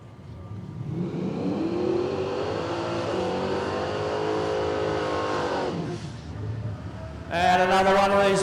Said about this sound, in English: Smoky burnout the full 8th mile